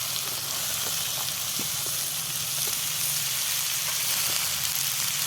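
Potatoes and onion stalks frying in a pan, a steady broadband sizzle with faint crackles and small pops throughout, fairly close and unbroken by talk.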